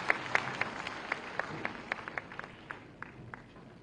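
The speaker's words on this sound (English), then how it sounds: "I think Honorable Sir deserves a very, very good round of applause" Students at a CMS event in Lucknow applauding an honored guest, a thin, somewhat distant patter of scattered claps with a few sharper hits, fading slightly toward the end.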